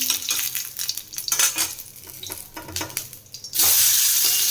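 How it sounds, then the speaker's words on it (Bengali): Mustard seeds tempering in hot oil for a mango chutney, giving a crackling sizzle with scattered pops and clinks of a utensil against the pan, then a sudden louder, steady hiss of frying near the end. "এখানে আমি ফোড়ন দিয়ে দিলাম"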